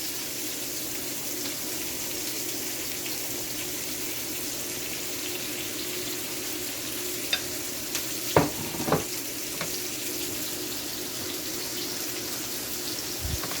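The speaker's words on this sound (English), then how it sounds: "So we're just gonna go ahead and continue sauteing just like this." Garlic, sweet pepper and carrot sautéing in a pot over medium heat: a soft, even sizzle throughout, with a few sharp stirring knocks and scrapes near the middle, no talking.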